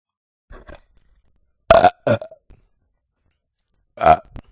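Several short burps from a nearby person, a couple of small ones followed by two louder gulping belches and a final drawn-out one, separated by silence.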